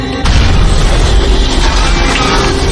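A bomb detonates aboard a Philippine Airlines Boeing 747 in flight, a sudden loud blast that breaks out of quiet and turns into a sustained, heavy roaring rumble.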